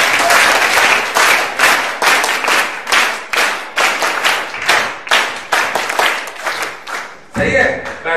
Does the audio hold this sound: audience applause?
yes